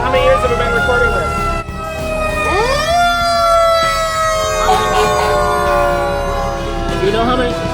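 Loud ambulance sirens wail and sweep in overlapping rising and falling tones at a Fourth of July parade, sustained and close throughout with a dense rumble of crowd and engines beneath.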